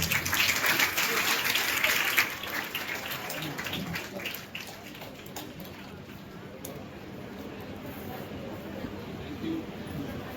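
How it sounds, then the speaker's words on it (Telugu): An audience at a public address claps together, a loud burst of applause that thins and fades to a quieter, sustained patter over several seconds. "అందరూ చప్పట్లు కొట్టడం"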